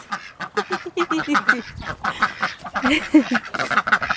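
Ducks quack loudly and excitedly in rapid bursts as they chase after someone at feeding time, several calls overlapping close by.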